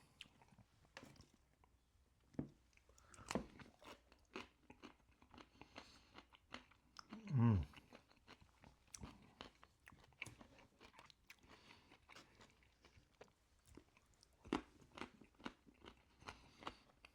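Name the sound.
chewing crunchy food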